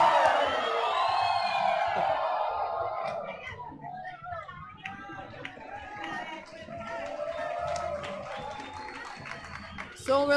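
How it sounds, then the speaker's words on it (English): A large stadium crowd cheers and roars with excitement while the wave sweeps around the stands at an ultimate frisbee match, a sustained loud wash of voices with whoops and clapping rising and falling throughout. "if you're hearing crowd noises, it's because this crowd is very excited about the wave"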